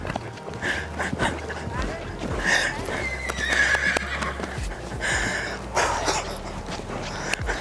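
A showjumping horse is heard during a jumping session, with soft hoof thuds and some snorting and whinny-like calls mixed in, with people talking over it.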